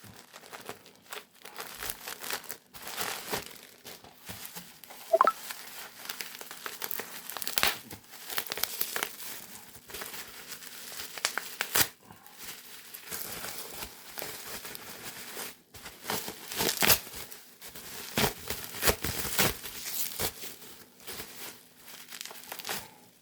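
Two sealed books are unwrapped from plastic packaging, giving faint, irregular crinkling and rustling with occasional sharper tearing crackles over about twenty seconds.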